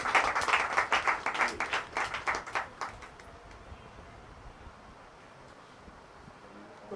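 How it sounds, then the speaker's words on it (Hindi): An audience at a political party press conference bursts into loud clapping that rattles along briskly for about three seconds, then fades away into quiet room noise. "जोरदार तालियां साथ मेरे देखिए।"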